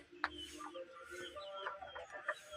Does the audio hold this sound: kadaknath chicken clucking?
yes